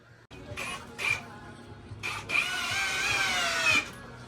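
The starter of a 500ci Mopar engine cranks in short bursts, then whirs for a longer stretch, loud and close.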